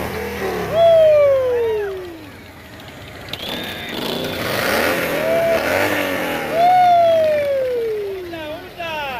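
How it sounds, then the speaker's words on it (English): Car engine revs loudly in a few rising and falling bursts at a Christmas parade in Rockport, Texas, close by, with people talking and shouting over it. "rev it up, rev it up."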